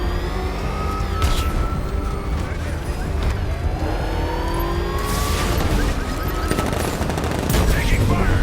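In Batman Arkham Knight, rapid gunfire fills a steady loud combat scene, blending with engine and vehicle noise and bursts of heavier fire toward the end, while voices shout under the din.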